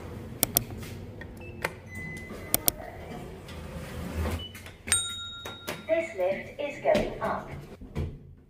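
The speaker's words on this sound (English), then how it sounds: "Doors opening." Doors open in a UK hospital during a nurse's day shift, giving sharp latch clicks, clunks and thuds at irregular intervals. The sounds are moderately near, over a low background hum, and voices can be heard at times.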